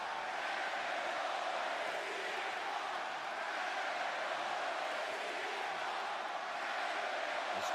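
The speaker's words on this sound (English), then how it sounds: "This crowd here in Toronto has been waiting all night for this moment, and they are as engaged as could be" A large wrestling arena crowd in Toronto roars with a continuous, broad wash of cheering and shouting that holds steady at moderate loudness for several seconds, no distinct voices standing out.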